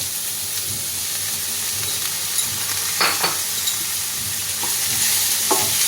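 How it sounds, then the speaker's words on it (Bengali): Chopped onion and generous garlic fry in a pan for butter garlic mushrooms, a steady close sizzle with bursts of stirring scrapes around the third and fifth seconds, no voices. "পেঁয়াজটা আর রসুনটা আমি খুব ভালোভাবে লাল করে ভাজবো"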